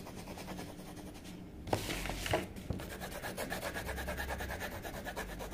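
A colored pencil rubs back and forth on paper while drawing, giving a faint, steady scratchy texture with a few brief louder strokes partway through, close up and quiet, with no voices.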